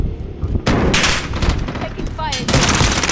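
Video game gunfire in bursts of rapid automatic shots and booms, loud and close, repeating through the clip while a voice speaks briefly over it.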